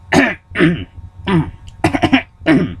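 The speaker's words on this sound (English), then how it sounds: "Sorry, I'm trying to clear my throat." Several harsh, throaty throat-clearing bursts, about five in a row with short pauses between, close and fairly loud with no speech.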